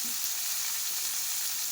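Tomatoes fry in a pot for Hyderabadi-style masoor dal, a dense, even hiss of sizzling oil close by with no other sounds.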